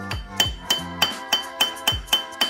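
A welded joint on a wrecked 2022 Ducati Scrambler Desert Sled frame struck with a metal tool, eight evenly spaced bright ringing tinks with short metallic decay, close and alone.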